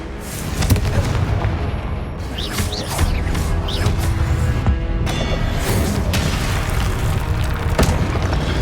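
A dense barrage of booming fire-spell blasts and crackling magical bursts fills a Hogwarts Legacy battle, loud and continuous with overlapping explosions and whooshes and no pauses.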